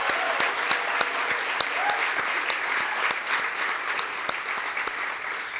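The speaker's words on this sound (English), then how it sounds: "So round of applause again for Victor." Graduates and guests at an EMT graduation gala give a sustained round of applause, dense steady clapping with scattered crisp individual claps and faint crowd murmur beneath.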